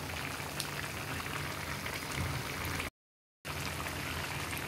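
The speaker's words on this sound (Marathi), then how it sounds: "2 मिनिटं आपल्या सुकटीला छान उकळी दिलेली आहे" Dried shrimp (sukat) curry boils uncovered in a pot, a steady close bubbling and spattering that runs continuously, with a brief silent gap partway through.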